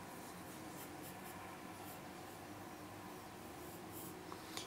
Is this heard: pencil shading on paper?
yes